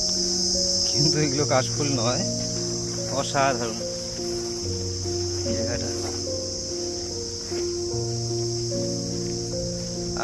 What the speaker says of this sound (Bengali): আর ঝিঝি পোকার ডাক একদম ফ্রি অফ কস্ট